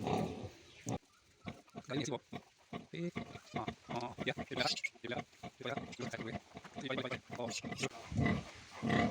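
A sow and her newborn piglets make a rapid run of grunts and squeals in uneven bursts, close and fairly loud, with voices mixed in at times.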